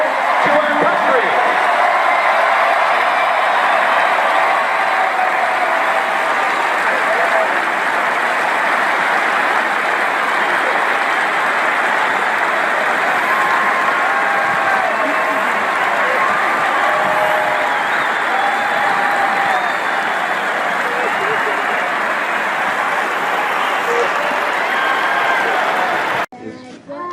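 A crowd claps and cheers steadily for a soldier's family at a surprise homecoming event, a dense, loud wall of applause lasting nearly half a minute before cutting off.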